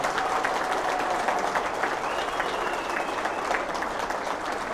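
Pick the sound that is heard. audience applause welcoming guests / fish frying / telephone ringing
audience applause welcoming guests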